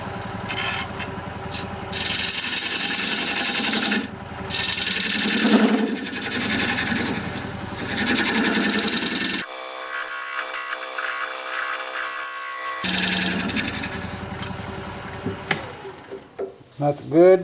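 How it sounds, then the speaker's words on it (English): Dovetail tool cutting a holly wood piece on a lathe, giving a scraping, buzzing rasp in several bursts of a few seconds each, separated by brief pauses and a quieter stretch. "Need to raise my tool rest a little bit so I can use this dovetail tool to put the dovetail on the side here."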